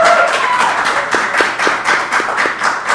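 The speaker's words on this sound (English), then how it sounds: "Let's give Mark Ned a round of applause" A live audience at a talk-show taping claps for a guest, a steady close crowd of hand claps running throughout the short stretch without a break.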